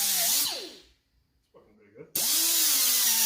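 A power tool chamfers the edges of cracks in a Honda CB77 SuperHawk rearset mount, whining loudly, winding down to near silence with faint scraping, then starting up again at full pitch.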